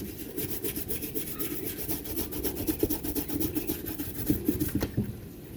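Hairbrush scrubbing Jordan Black Cat 13 sneakers during cleaning, a close, quiet rhythmic rubbing with rapid back-and-forth bristle strokes throughout, no voices.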